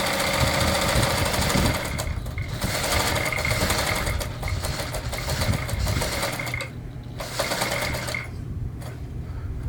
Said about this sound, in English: What you do is you just zigzag over the edge.